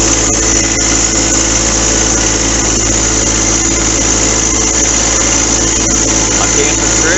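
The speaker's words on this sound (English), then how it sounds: "I like to hear the engine sound better than me anyway" A new John Deere 4x4 tractor engine runs at a steady idle close by, a loud, constant rumbling drone with vibration that holds unchanged throughout, with no voices heard.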